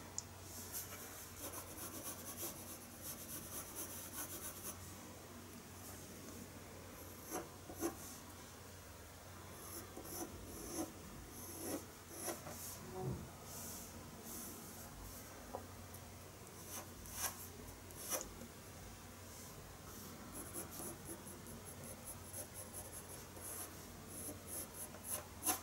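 Colored pencil glazes lightly across paper while a horse forelock is drawn, making soft, faint, repeated scratchy strokes with brief pauses between bursts.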